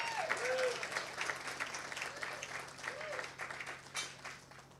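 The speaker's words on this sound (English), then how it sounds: "y'all can clap for that." Guests at a Harlem Renaissance gala clap in a moderately sized room, scattered and uneven applause with some voices and whoops mixed in, fairly quiet and thinning out over a few seconds.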